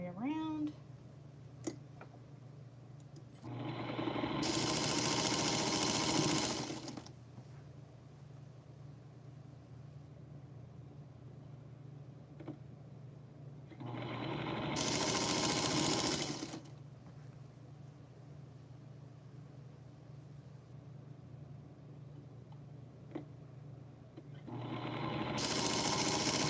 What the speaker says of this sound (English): I'm going to start sewing my pieces together